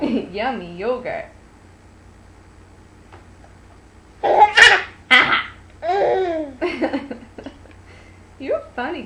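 A baby girl lets out a couple of short, sharp sneezes amid giggling, babbling and an adult's voice talking nearby.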